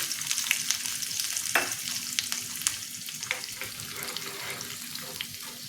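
Cumin seeds, green chilli pieces and peanuts sizzle in hot tempering oil, a dense close crackling hiss with scattered sharp pops and spatters running steadily throughout, no talking.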